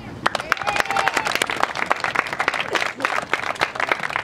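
A crowd applauds at a high school senior night, dense clapping with sharp individual claps throughout, and a voice briefly rises over it near the start.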